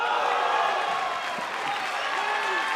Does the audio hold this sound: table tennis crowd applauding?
yes